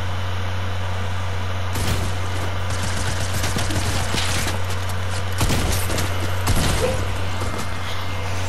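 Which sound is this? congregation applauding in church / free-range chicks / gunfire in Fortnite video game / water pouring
gunfire in Fortnite video game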